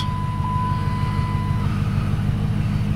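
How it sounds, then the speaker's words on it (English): A Hemi V8 engine running after being started, a loud, steady, close low rumble that stays even throughout with no voices. "it's time to start the Hemi. Let's give it a try here. Ooh, sweet. The Hemi runs."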